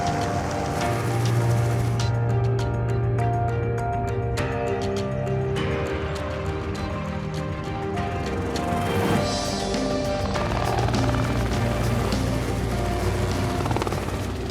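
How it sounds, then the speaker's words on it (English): A helicopter herds kudu toward a capture boma, its rotor thrum loud and continuous throughout, steady and fairly close, with no voices. "Chopper's just getting ready to push them over the threshold."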